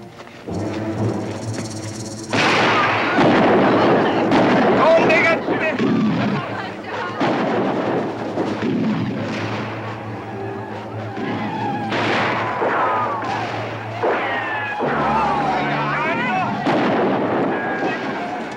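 Battle gunfire in a frontier adventure film, with repeated sharp musket shots and booms layered over shouting voices and a sustained musical tone, loud and dense throughout.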